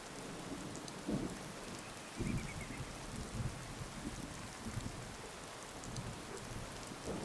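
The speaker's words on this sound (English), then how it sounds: "Kind of a subdued day, but I can't really blame anyone, given the rain." Steady rain pours on surfaces in the video game Skyrim, with a few soft low thunder rumbles swelling through the downpour; no one speaks.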